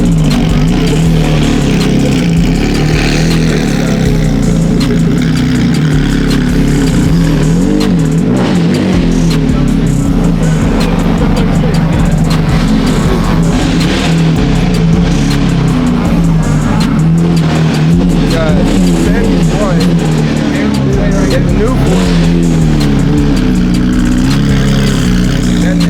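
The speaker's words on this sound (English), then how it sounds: "That fire-breathing Huracan." A twin-turbo Lamborghini Huracan at a car show revs hard and pulls away, a loud, continuous engine roar with rising and falling pitch and tire noise, while people talk over it.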